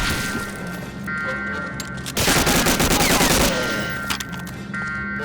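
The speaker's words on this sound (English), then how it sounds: "Come on, I'm shooting right into your chest, buddy." Gunfire from Medal of Honor Warchest: a loud fast burst of automatic shots in the middle with quieter game sounds around it, and no talking.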